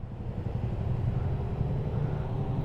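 A motorcycle engine drones under throttle as the rider climbs a hill, a steady low rumble heard from nearby with no clear rise in pitch and no talk over it.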